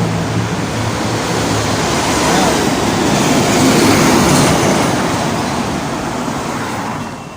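A train in Japan rumbles steadily close by, a broad continuous roar with faint clickety-clack of wheels, swelling slightly in the middle before easing off.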